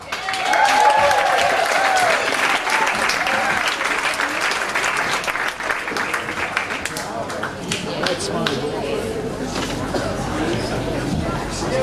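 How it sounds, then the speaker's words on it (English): Sustained audience applause and clapping with some crowd noise welcome a featured poet onto the stage at a readers and writers festival in Ubud, steady and full for most of the stretch before thinning slightly toward the end. "Can everyone please give a big round of applause to Kamau?"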